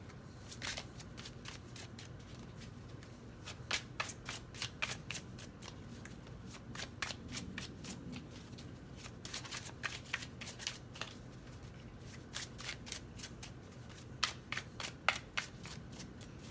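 Tarot cards being shuffled: soft, quiet riffling and flicking in repeated bursts over a faint background hum, with no talking.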